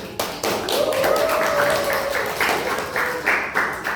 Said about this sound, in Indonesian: Kita beri aplaus untuk kelompok Fibonacci.